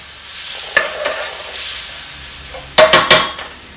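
Spices hitting hot oil in a pan during a restaurant-style prawn pathia, giving a sizzle that flares in sharp bursts near the start and again in three loud crackling spurts toward the end, with a soft steady hiss between.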